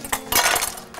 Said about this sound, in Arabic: نجيب عندنا سكينه، ثانيه واحده سكينتنا بس تكون جنبنا كده